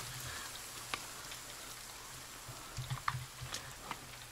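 Game rain in the survival title The Forest, a steady soft hiss of falling drops with scattered louder patters and splashes, constant and close.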